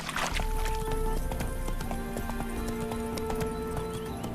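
Steady clip-clop of horse hooves at a brisk trot, continuous throughout, with a faint tonal backdrop and no talking, in the video game The Witcher 3: Hearts of Stone.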